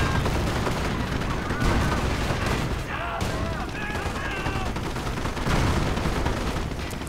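.50 caliber machine guns fire in the strategy game Company of Heroes, with long rattling bursts and booming impacts stacked into a dense, loud battle din, broken by thin whistling tones near the middle.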